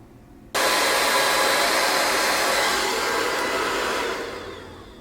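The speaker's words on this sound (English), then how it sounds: "I would say no more than 20 seconds when you're blow drying it." A hair dryer switches on after a half-second pause and blows steadily and loudly on a wig cap, its broadband rush fading slightly toward the end; no voices are heard.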